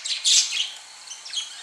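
Lovebirds that escaped into a backyard give sharp, high-pitched squawks and chirps, with a loud burst early on and then fainter calls further off.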